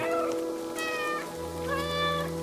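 A cat meows several times in short, rising tonal cries over a steady low hum and background music-like tones, with no talking, in the video game Stray.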